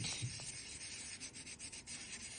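Micro mesh sanding a polymer clay ring, a soft, close scratchy rubbing in short repeated strokes over about two seconds.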